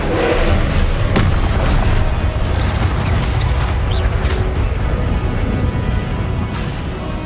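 An Incendio fire spell cast in a Harry Potter video game, heard as a loud, dense roar of booming blasts and crackling bursts that stays strong and continuous the whole time, with no voices.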